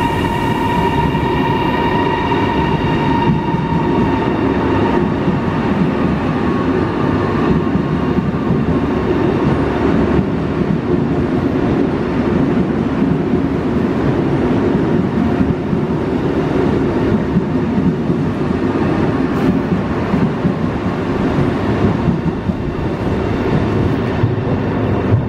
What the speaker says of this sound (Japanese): 向かいのホームの列車がちょうど発車しました